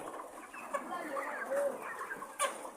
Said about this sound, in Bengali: দেখতেই পাচ্ছেন মুরগিরা খাদ্য খাচ্ছে